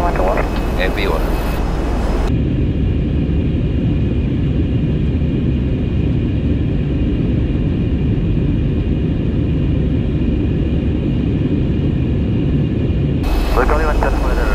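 Steady, loud jet airliner engine roar during a takeoff roll in GTA V, a continuous broadband rumble held for about eleven seconds, bracketed by brief talk at the start and end.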